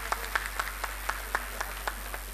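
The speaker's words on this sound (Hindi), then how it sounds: "इनके लिए ज़रूर तालियां बजाइए" An audience claps for two young musicians with a thin, evenly spaced run of about a dozen claps. The claps are fairly faint and sit over a steady low electrical hum, with no talking.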